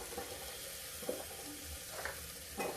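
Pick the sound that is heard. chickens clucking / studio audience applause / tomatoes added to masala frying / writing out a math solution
tomatoes added to masala frying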